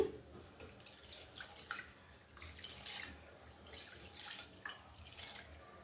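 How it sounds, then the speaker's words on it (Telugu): Gentle sloshing and trickling water in a bowl as lentils are washed for sambar, soft rubbing splashes coming in uneven bursts, fairly quiet and close, with no talking. "ఇందులో నీళ్ళు పోసి బాగా కడిగి పెట్టుకోవాలి"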